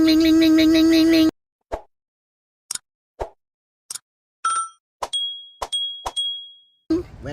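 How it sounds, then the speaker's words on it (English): Notification bell sound effect: after a sustained chime, a string of sharp, isolated dings and plops ring out one by one, loud and close, with brief silences between them. "Hit that little notification bell."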